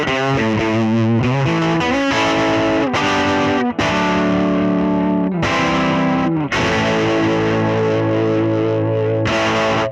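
Electric guitar played through an Origin Effects MAGMA57 vibe and drive pedal, with drive and vibrato engaged together: loud, continuous distorted chords and riffs with a wavering, pulsing vibrato shimmer and brief breaks between phrases, no voices.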